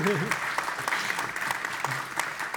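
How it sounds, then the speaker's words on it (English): Applause from an audience at an enterprise AI presentation, steady clapping across the whole stretch at moderate level, with a voice cheering briefly at the start. "Round of applause"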